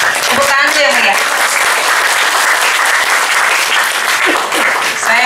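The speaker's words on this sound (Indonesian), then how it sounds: "Tepuk tangan dulu ya Bu ya." Loud, dense audience applause at a political consolidation meeting in West Jakarta, steady throughout, with a voice speaking over the clapping near the start.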